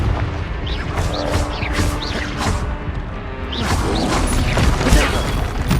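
Confringo blasting spell cast in Hogwarts Legacy: a run of loud crashing impacts and whooshing bursts over dense, continuous combat noise, repeated several times at close range without speech.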